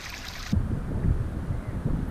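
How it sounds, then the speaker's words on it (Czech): A river flows beside a hiking trail where hot springs feed into it, a steady low wash of water with faint gusts of wind over the microphone. "Podle mě je ta řeka, podél který jsme teďka asi den a půl šli"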